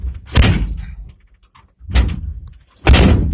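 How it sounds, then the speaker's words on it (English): A door being shut three times in succession, each a loud, sharp thump with a brief rattle, separated by short quiet gaps. "okay, I'm going to shut the door."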